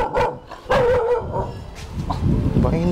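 A dog barking at the roadside during a road trip in Tamil Nadu, a few sharp close barks and yips mixed with whimpering and people talking.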